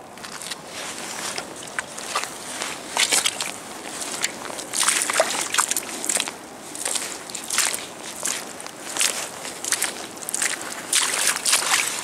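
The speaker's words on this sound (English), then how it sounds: "Let's go and give it a wash and have a better look. Let's get the mud off." A found wartime coin is rinsed of mud in the water of the River Thames foreshore, with continuous close sloshing and splashing in uneven bursts along with some crunching movement.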